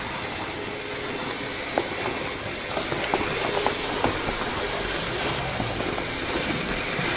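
A Hornby LMS Stanier 4P model steam locomotive runs smoothly on its track, giving a steady soft hiss and rolling rumble with faint light clicks and ticks scattered through.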